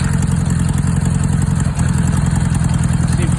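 Four-cylinder motorcycle with one cylinder disconnected and misfiring, idling close up with a steady, slightly uneven throbbing pulse and mechanical clatter.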